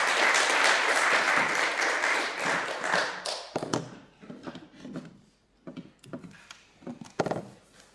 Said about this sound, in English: please head back to this room for the next talk, but one final round of applause